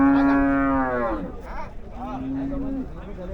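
A cow lets out a long, loud moo followed by a shorter second low call at a busy Shimulia cattle market in Rupganj, with background murmur and voices around it.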